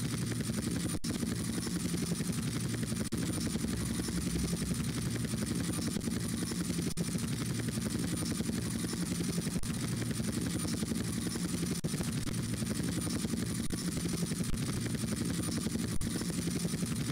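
Helicopter in the video game Grand Theft Auto: Vice City Stories, a steady, droning rotor and engine noise that holds at an even level throughout with no talking.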